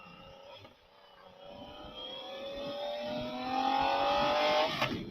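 A 2024 Yamaha MT-09 motorcycle engine rises in a steady, climbing rev under throttle while riding on a commute, the whine building louder over several seconds before easing off.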